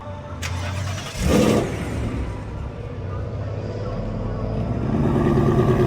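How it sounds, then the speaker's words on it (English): A car engine starts at a drag strip ahead of a pass in the slow car, with a sharp burst early on settling into a loud, steady close rumble that swells slightly toward the end. "We're gonna go make a pass in the slow car."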